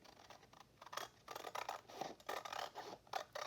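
Scissors trim paper for a handmade ephemera holder with a run of quiet, close snipping and rasping cuts in short uneven bursts, no talking.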